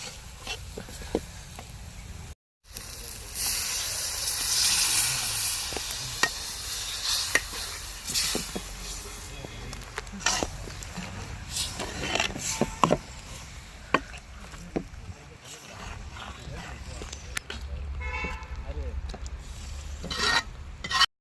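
Soft bubbling and hissing of a thick masala gravy with cumin simmering in a pan, low and continuous, with scattered clicks and light stirring sounds.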